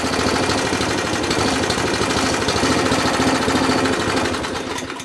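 A Qualcast 35S cylinder lawn mower's small engine idles roughly in a loud, rapid, uneven chatter close by, running continuously without talk before easing slightly at the end.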